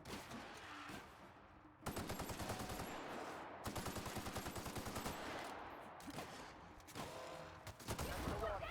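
Acid light pistol in The Outer Worlds firing in rapid repeated bursts, loud and close, with short gaps between volleys of crackling shots and a voice speaking faintly underneath.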